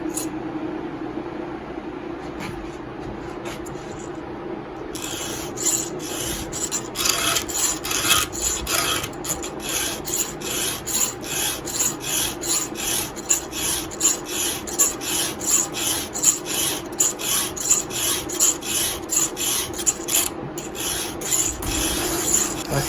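A hand file sharpens a semi-chisel chainsaw chain, giving close, rhythmic rasping strokes that repeat steadily, with quieter scraping at first and then a regular back-and-forth pattern.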